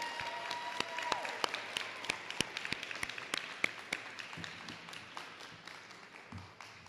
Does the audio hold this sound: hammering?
no